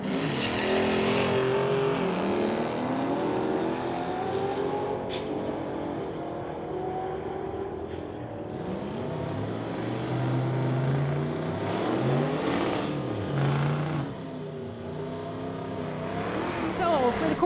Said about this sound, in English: We've got Chris Butler from Calgary, Alberta in this 2009 Corvette going against Everett from Maple Ridge in the Chev